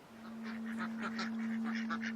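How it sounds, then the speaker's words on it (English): Ducks on a lake give a run of honking, quacking calls, moderately near and fairly steady, over a constant low hum with no talking. "Ducks on the lake."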